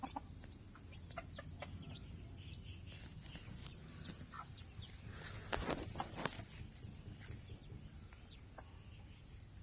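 Chickens and chicks cluck and peep faintly while pecking at cracked corn and grass in a pen, with sporadic soft calls, a couple of sharper knocks, and a constant insect buzz behind.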